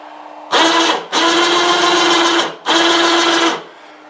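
Motorized bead roller running in forward: a steady electric motor whine with a strong hum, starting and stopping in three runs of roughly half a second, one and a half seconds and one second, close and loud.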